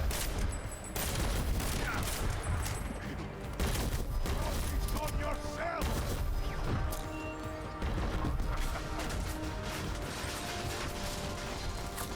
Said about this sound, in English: Hearing his bit crush gun is really funny though